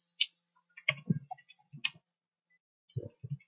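Quick clicks from a computer keyboard being typed on at a desk, a few short bursts of keystrokes with brief pauses, close and fairly quiet, no voices.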